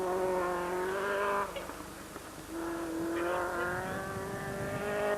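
A 1988 Wicklow Rally car revs hard and spins on a stage, its engine whining loudly, dropping away briefly in the middle, then surging again as it races toward a right-hand bend.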